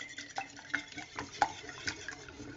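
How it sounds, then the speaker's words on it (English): Egg yolks for savoury broccoli cheese muffins get whisked in a bowl: quiet, uneven clicks and scrapes of the whisk against the bowl, fairly faint and close up. "Now just whisk that all together"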